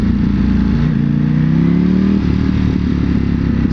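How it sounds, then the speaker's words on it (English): A 2021 Ducati Panigale V4S engine burbles close and loud while decelerating off the throttle, a steady low throbbing rumble whose pitch slides gently, with no talking. "when you are decelerating and you are letting off the gas, that it makes a nice burble"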